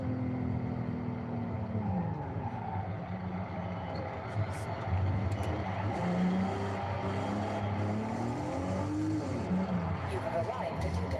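A Nissan car with a VQ engine driving in the video game Forza Horizon 5, with a steady engine drone whose pitch rises and falls through gear changes, heard under someone talking.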